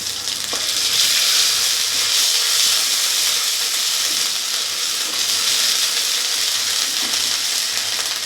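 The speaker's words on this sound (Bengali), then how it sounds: "একটুখানি হলুদটা আমি বেটে নিয়েছিলাম, এই জন্য তেলে দিলাম" Ground turmeric paste sizzling in hot oil with dried chili and five-spice, a loud continuous frying hiss that stays steady and close throughout.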